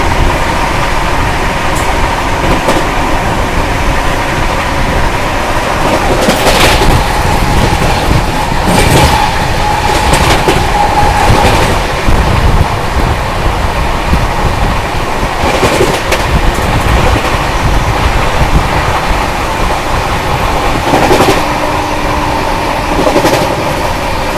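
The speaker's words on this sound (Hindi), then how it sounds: "अपनी ट्रेन बिल्कुल ताबड़तोड़ भाग रही है भाई, अपनी महाकौशल एक्सप्रेस" The Mahakaushal Express passenger train roars past at speed with steady rumble and rhythmic clickety-clack of wheels over rail joints, loud and continuous, with brief squeals and whooshes.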